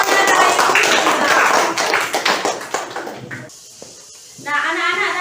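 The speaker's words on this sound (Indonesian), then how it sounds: "tepuk tangan buat kelompoknya Dayu Sinta" Students in an Indonesian elementary classroom applaud a student group after its discussion report, a loud dense burst of close clapping that stops abruptly, followed by a short hiss and then a voice speaking.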